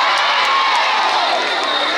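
A crowd of students at a girls' high school claps and cheers loudly and continuously, with whoops and high-pitched shouting throughout.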